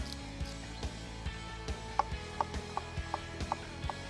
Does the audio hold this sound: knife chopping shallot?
yes